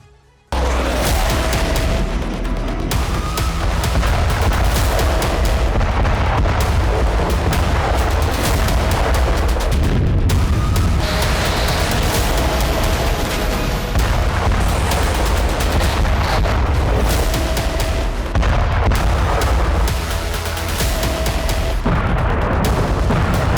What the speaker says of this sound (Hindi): वॉर ग्राउंड में होते ये धमाके, ये तबाही